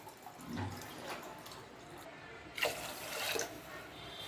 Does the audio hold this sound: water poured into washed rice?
yes